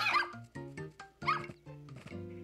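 A Shiba puppy in the Nintendogs + Cats video game gives a few short, high yips and barks with whimpery tones, three or four bursts close together.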